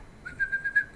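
A person whistles with the mouth, a short, thin, steady high note lasting under a second, close and fairly soft with slight pulsing in loudness.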